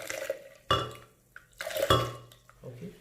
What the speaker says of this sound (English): We just take the broth of the chickpea and we just pour it, right?